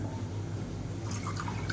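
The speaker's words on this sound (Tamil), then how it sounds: "இப்போ மிக்சியை அலசிட்டு ரசம் வந்து தேவையான அளவுக்கு தண்ணி சேர்த்துக்கலாம்" Water poured into a pot of South Indian rasam from a rinsed mixer jar, a steady soft liquid trickle with faint dripping splashes building toward the end, close and fairly quiet.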